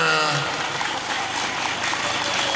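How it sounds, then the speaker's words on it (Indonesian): Schoolchildren applaud together in a primary school classroom in Naman, Tanah Karo, a dense wash of clapping with voices mixed in. "Anak-anak tepuk tangan dulu dong untuk Ibu Nda."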